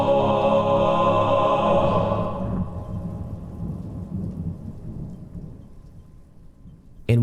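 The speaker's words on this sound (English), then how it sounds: "And with a crack of thunder" A loud crack of thunder rolls out over steady rain, then fades into a long, low rumble with rain still pattering faintly, and a sudden burst of noise comes right at the end.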